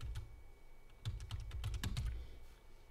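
Typing a report name on a computer keyboard, a quick run of close, crisp keystrokes in an irregular burst.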